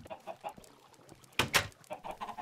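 Minecraft chickens in a coop, soft intermittent clucks with two brighter bursts near the middle, quiet and close against low background game sounds.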